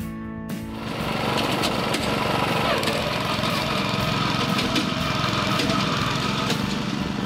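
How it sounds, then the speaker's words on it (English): A rented lawn core aerator's small engine starts after a pull, then settles into a loud, steady, rattling run with clattering tines, close by and with no talk over it. "pull again, and your aerator should start up just like you see here."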